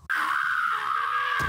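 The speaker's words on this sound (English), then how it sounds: "You just hear him screaming." A man's sustained, high, steady scream, loud and close, held for over a second without a break.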